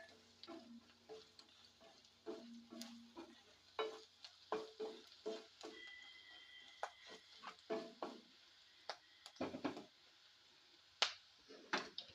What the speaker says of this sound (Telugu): ఉల్లిపాయ ముక్కలు అయితే గోల్డెన్ బ్రౌన్ కలర్ వచ్చే వరకు వేపుకోవాలి